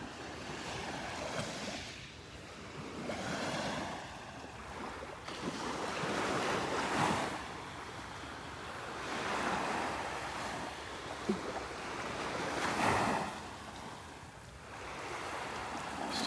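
Small, gentle waves lap and wash up the beach at Delnor-Wiggins on a calm morning, a soft continuous surf hiss rising and falling in slow swells, with wind rumbling over the microphone throughout.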